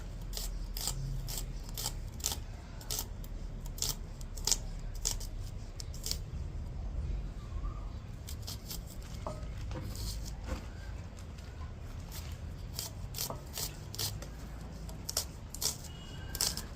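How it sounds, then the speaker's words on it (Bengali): A knife chops an onion for Bengali cooking, with rapid sharp close-up cuts hitting the board in an uneven steady series over faint background noise. "এই যে আমি পেঁয়াজটাকে সুন্দর করে কেটে নেব।"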